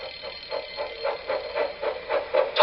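An alarm bell on a toy railway rings in quick repeated pulses, a steady ringing rhythm sounding alone for a few seconds.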